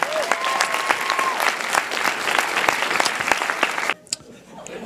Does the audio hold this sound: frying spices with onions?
no